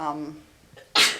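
A single sharp sneeze bursts out close and loud at the end, preceded by a brief bit of voiced sound.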